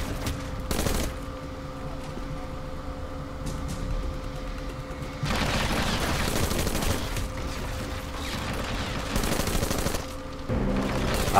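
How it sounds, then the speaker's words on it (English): Gunfire in Hitman Absolution in a penthouse fight with bodyguards: sustained bursts of rapid shots in two long stretches over a steady background hum, with no talking. "I'll just shoot them this way"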